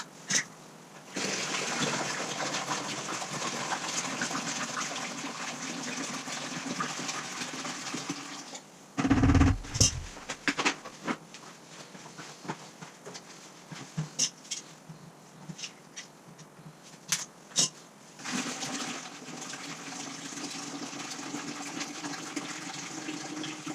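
Water gushes and trickles steadily as a tankless water heater is drained during a vinegar flush, with a brief louder splash partway through and no talking.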